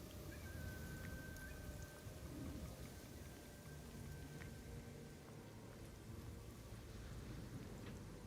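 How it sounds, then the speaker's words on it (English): A storm in a video game produces a constant wash of rain and wind with low thunder rumbling underneath, faint and steady throughout. "There's a storm brewing."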